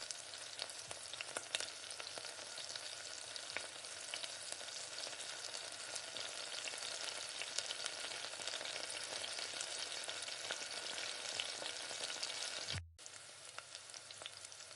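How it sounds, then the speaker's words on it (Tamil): Masala vada deep frying in hot oil, a steady dense sizzle and crackle close up that runs almost unbroken, with one brief cut near the end before the bubbling resumes. "இந்த வடையை திருப்பி திருப்பி போட்டு நல்லா பொன்னிறமாக வரந்தோட்டிக்கு நல்லா வேக வச்சுக்கோங்க"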